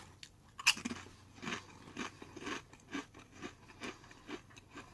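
Sprouts chips with a light vinegar flavor crunch loudly and close up, with one sharp first bite followed by a steady run of crisp chewing crunches.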